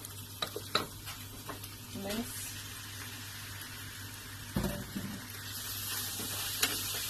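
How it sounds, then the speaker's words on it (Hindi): Minced meat keema with ginger-garlic paste frying in a pan, a steady hiss layered with scraping and clinking as it is stirred, a louder stretch near the middle, close by and without clear speech. "अच्छा, अब इसको हमने अच्छी तरह से भून लेना है। इसको मैं खूब भूनूंगी।"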